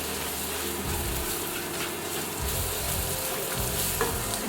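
Oxtail frying with chili and salt in a pan, stirred steadily, giving a loud, continuous sizzle with scraping and stirring sounds close up and no talk.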